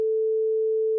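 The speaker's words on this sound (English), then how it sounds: "This is a sine wave." A steady pure sine wave tone at one pitch, constant and moderately loud for about a second, alone with no other sounds, fading in and cutting off cleanly.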